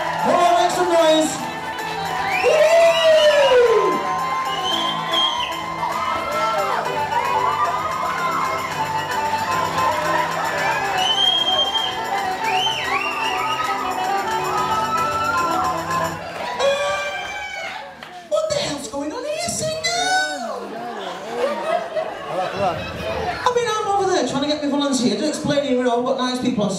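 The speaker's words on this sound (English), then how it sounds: "Come on, give a cheer!" An audience at a stage hypnosis show cheers and makes noise loudly and continuously, with shrill whoops and crowing-like calls rising over the steady crowd roar, which thins into scattered yells near the end.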